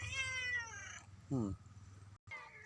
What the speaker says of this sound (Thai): น่ารักมากเลยแมวตัวนี้